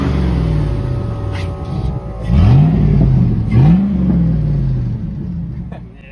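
A Chevrolet Suburban fitted with an exhaust dump revs, its engine rising in pitch twice in quick swells before settling back to a loud, steady idle rumble up close.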